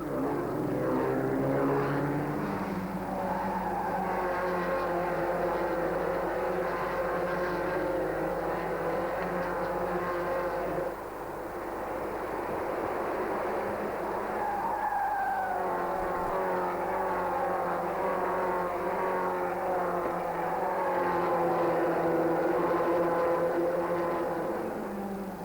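Race cars on the Rouen-les-Essarts road circuit drive past with a loud, continuous engine drone whose pitch rises and shifts as they take a long, technical uphill section of bends.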